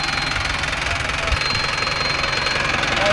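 A Mahindra Arjun Novo 605 DI tractor engine runs close and loud, a steady knocking diesel chug that holds unbroken for the whole stretch, with no clear voices on top.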